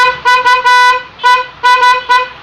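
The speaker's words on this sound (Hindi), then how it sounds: "हॉर्न आ रहा है।" A Honda Unicorn 150 motorcycle horn, wired through a newly fitted Pulsar light switch, blares in about six short, close, loud honks of varying length in quick succession.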